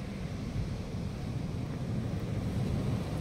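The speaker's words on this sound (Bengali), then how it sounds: "খুব বড় বড় ঢেউ।" Big sea waves at Puri beach make a continuous low roar of surf, steady and fairly loud, with wind buffeting the microphone and no voices.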